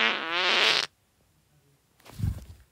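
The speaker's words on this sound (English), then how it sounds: "that's why Tom's dumb, because he farts all the time" The Talking Tom cartoon cat in a mobile game lets out a buzzy, loud fart, then a short silence before a second lower, rumbling fart.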